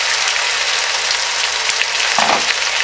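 Carrots tipped into a hot frying pot for butternut squash soup, a steady loud sizzle of frying throughout with a brief stirring rustle near the end.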